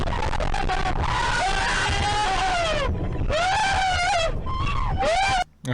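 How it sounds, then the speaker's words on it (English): People scream and yell loudly during a motorcycle dash camera incident on a 70 km/h road, sustained shrieking voices over continuous road and engine noise, cutting off abruptly near the end. "Why you gotta be screaming like that?"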